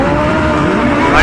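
An autocross race car launches off the start line at the Antoing Cross Festival super final, engine roaring loud and close with rising revs, as heard from an onboard camera.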